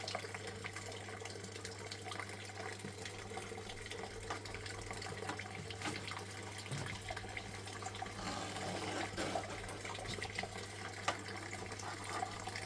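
Water flows steadily through a gold sluice test mat at a pay-dirt session outdoors, a continuous gentle trickling and splashing at moderate distance with a low steady hum underneath.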